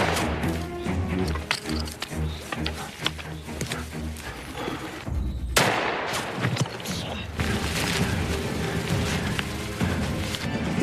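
Sniper shootout in a war film against Nazi German soldiers, with dense bursts of gunfire, sharp cracks and crashes over a loud dramatic score, a heavy impact near the middle and continued chaotic shooting after.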